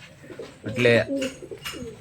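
Homing pigeons coo softly in a few short, low bursts, close by, with faint background murmur.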